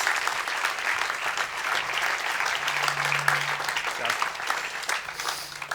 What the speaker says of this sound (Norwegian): Ta godt imot Greg Poehler. Warm applause.